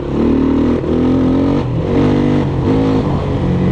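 A small Loncin-engined Geon Scrambler 250 motorcycle engine with 12,000 km of use revs steadily up and down in repeated surges, loud and close, with no voices.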